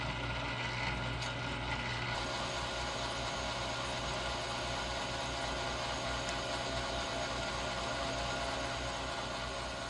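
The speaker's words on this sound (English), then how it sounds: "So I am going to try slowing down the lathe and see if by slowing down the RPM I can get a better surface feet per minute" A 1942 South Bend lathe runs at a slowed spindle speed while machining a chuck backplate, giving a steady, dense mechanical whir and hum with faint ticking gear noise, continuous and moderately close throughout with no talking.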